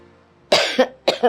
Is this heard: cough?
yes